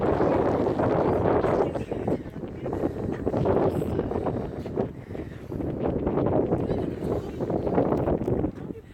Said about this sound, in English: It's probably too windy.